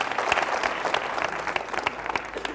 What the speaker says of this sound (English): Round of applause for Mandi.